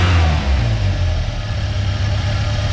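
A remanufactured engine swapped into a 1990 Ford Ranger runs steadily and smoothly up close, a loud, even low rumble with no misfires or speech, though the engine has a suspected valve train issue.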